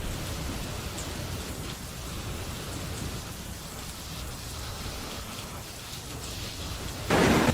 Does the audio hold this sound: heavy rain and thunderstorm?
yes